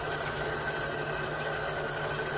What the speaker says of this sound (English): You guys get the idea how loud this machine is?